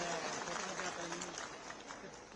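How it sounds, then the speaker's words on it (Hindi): Crowd applause at a political rally addressed by a state chief minister in India, a dense, steady wash of clapping held at even loudness for the full stretch with no gaps. "एक बार इनके लिए भी तालियां बजा दीजिए"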